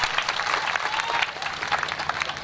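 An audience applauds at a live stage performance, a dense wash of clapping from many hands that stays steady and full across the whole moment.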